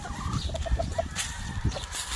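Pure Mingus Dom McRae gamefowl on a farm give soft, short clucks and murmurs over a noisy, rumbling background, a few brief calls spaced through the moment.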